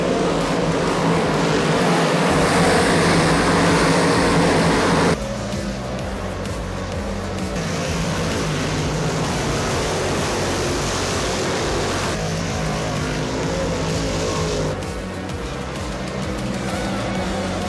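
Stock cars race at Autodrome Granby, producing a dense, continuous roar of engines blended with crowd noise and broad track din that shifts in level as the pack moves.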